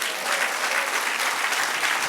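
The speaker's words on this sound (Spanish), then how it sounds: "Dale un aplauso al Señor" A church congregation claps steadily together during a Spanish-language service, a dense, even patter of applause filling the room with no voices over it.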